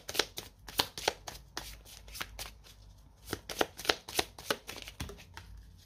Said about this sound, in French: on va poser une carte. De l'oracle des amoureux